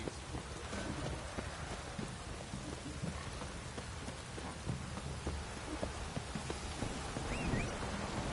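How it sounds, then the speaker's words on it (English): Heavy downpour in The Witcher 3, a steady broadband hiss of rain pattering on surfaces with scattered drops and a faint low rumble, continuous and even throughout with no speech. "This downpour's a bastard"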